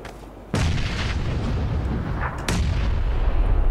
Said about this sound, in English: Why are there explosions?